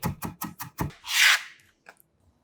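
Knife coarsely mincing two whole garlic cloves on a cutting board, five quick rhythmic chops followed by a scraping rub across the board and a couple of soft final taps, close and clear with no talk.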